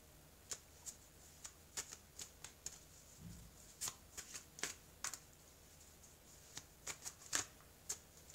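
A deck of oracle cards is shuffled close by, giving a run of crisp, irregular flicks and snaps over a faint, quiet background with no talking.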